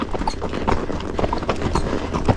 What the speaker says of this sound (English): Gaye, DeRusso, Majestic rider working on a horse that doesn't want to take a turn up here.